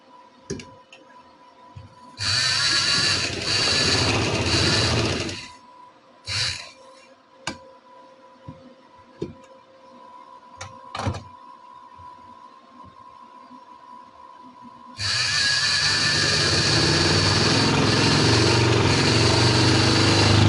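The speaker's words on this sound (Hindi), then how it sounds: "अब हमने इन दोनों जोड़ को आपस में जोड़ के और ये फिटिंग वाली सिलाई लगानी है" A sewing machine runs a fitting seam on a frock in two bursts of fast, even motor whirring, one short and one longer run at the end, with quiet handling clicks in between.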